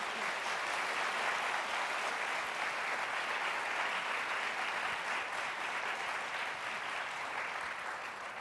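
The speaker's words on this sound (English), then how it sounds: "Give them a big round of applause." A large audience gives sustained, dense applause after a technology panel discussion, steady and loud throughout with no voices standing out.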